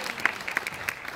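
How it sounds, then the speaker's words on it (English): Audience applause at a spoken-word poetry festival: a short, loose patter of scattered claps with a few sharper individual hits, fairly faint and alone. "So applause for you guys."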